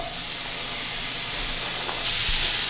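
Chopped onion and a large carrot cook in melted butter in a pan, giving a steady, even sizzle that holds throughout and brightens a little toward the end, with no voices.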